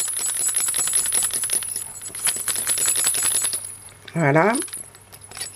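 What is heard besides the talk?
small jingle bells with tiny balls inside being shaken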